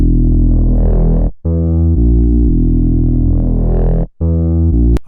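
Sub bass made in Serum 2 with sine-shape distortion, heard as a loud, deep sustained tone rich in buzzing harmonics, playing a few long notes separated by two brief gaps.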